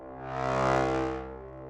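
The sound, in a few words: growly distorted brass sample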